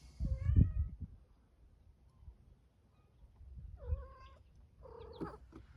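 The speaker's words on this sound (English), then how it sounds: "There's one of our cats." A cat meows a few times outdoors near potted tamarack trees, a short cry at the start and two longer rising meows toward the end, fairly close with quiet gaps between.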